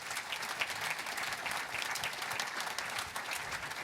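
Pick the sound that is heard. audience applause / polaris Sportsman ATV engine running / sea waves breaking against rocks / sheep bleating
audience applause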